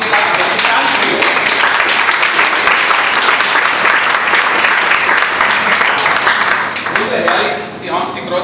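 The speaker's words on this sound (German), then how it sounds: "bitte einen kräftigen Applaus für unsere Musik" Loud, dense applause from an audience for a dance trio's music at a Paulaner brewery exhibition in the Eiswerk, sustained for several seconds before thinning and fading near the end.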